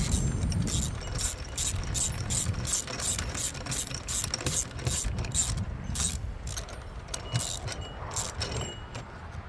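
Hand ratchet clicking in steady rapid bursts as bolts and lock nuts are tightened on a Vevor D52-F 52cc gas post hole digger auger, close and loud with brief pauses between strokes.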